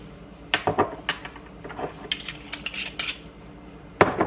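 A metal measuring spoon clinks repeatedly against a container while half a teaspoon of garlic powder goes into a crock pot for BBQ pulled pork, with several close, sharp taps spread across the moment and one last clink near the end.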